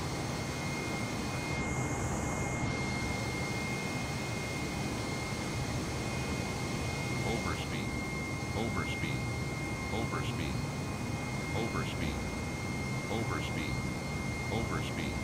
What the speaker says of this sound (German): Hier sieht man, wie schön die Triebwerke laufen.